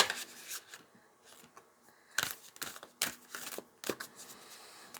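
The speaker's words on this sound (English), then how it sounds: "These are surprisingly difficult to shuffle." Tarot cards being shuffled by hand, a stiff deck riffled and slid in repeated bursts of papery flicks and rubs, close and fairly quiet, with no talking.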